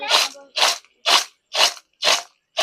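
Six crisp, crunchy bites come in a steady rhythm about half a second apart, each a short, loud burst of crackling with silence between.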